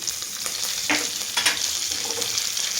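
Tempering seeds sizzle and pop in hot oil for a pickle, a dense continuous crackling hiss with occasional sharper spits and a stir, close and fairly loud, with no talking.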